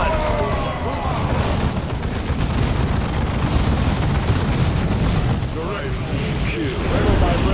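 Dense, continuous battlefield gunfire in Warhammer 40,000: Dawn of War II rattles loudly and without pause, mixed with booming impacts and mechanical clatter.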